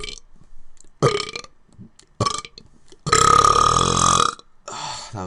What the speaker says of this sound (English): I'm gonna do some more dry burps.